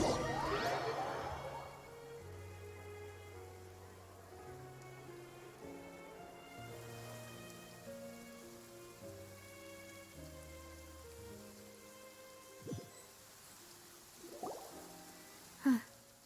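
Steady soft rain hiss in a video game, falling under gentle low musical tones. A brief louder swish opens it, and a few small thuds and splashes come near the end.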